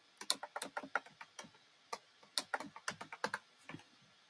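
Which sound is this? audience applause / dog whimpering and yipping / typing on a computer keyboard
typing on a computer keyboard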